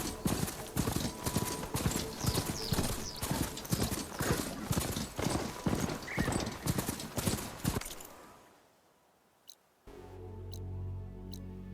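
Machine mount ridden in Horizon Forbidden West, a rapid, steady patter of heavy hoof-like footfalls that cuts off and leaves near silence, then a low rumbling ambience with a few faint clicks.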